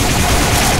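The Overdose, the Medic's syringe gun in Team Fortress 2, fires as a brief, loud, dense burst of rapid shots.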